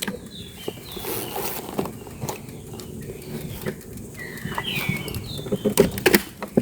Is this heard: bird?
yes